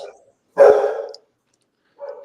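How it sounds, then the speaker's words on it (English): A dog gives a single sharp bark, preceded by a brief softer yip and followed by another short bark, close and loud against silence. "That's not my dog this time."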